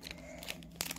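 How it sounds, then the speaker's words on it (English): Close crinkling of a plastic Polly Pocket blind bag cut open with scissors, short snipping crunches, a quick burst of cutting near the end. "Cut it open with my scissors."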